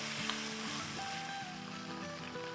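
Ginger garlic paste frying in a pan for karahi chicken, a quiet steady sizzle with faint tonal hum running underneath, no voices.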